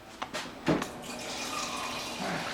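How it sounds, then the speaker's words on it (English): Filtered water pours from a refrigerator door dispenser into a measuring cup while a cake mix is prepared in a home kitchen, a short splash followed by a steady close stream. "let's get the 1 cup of water"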